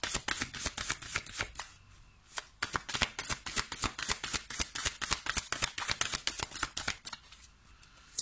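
A deck of oracle cards is shuffled by hand, giving rapid, crisp riffling slaps in quick succession with a couple of short breaks, close and loud with no speech.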